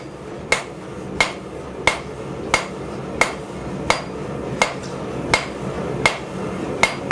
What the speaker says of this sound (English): Okay, now I'm gonna forge it out again.